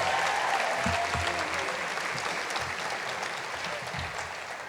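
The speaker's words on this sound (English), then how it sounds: "can I have another round of applause for the Westminster class of 2019?" Sustained applause from a graduation ceremony crowd celebrating the Westminster class of 2019, a dense steady clapping that fills the whole stretch and fades slightly toward the end.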